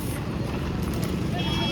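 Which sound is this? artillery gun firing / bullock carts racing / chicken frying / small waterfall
bullock carts racing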